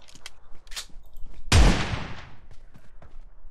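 A single heavy gunshot bursts out in PUBG Mobile gameplay, loud and booming with a decaying tail, after quieter clicks and faint shuffling.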